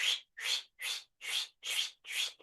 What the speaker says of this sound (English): The woodcock has tail feathers, makes sounds with their tail feathers.